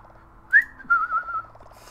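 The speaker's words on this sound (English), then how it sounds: "Stop with your whistling, you'll announce your guilt for miles around." A short video-game whistled tune with a rising note then a sustained wavering tone, clear and close, over a quiet background hum.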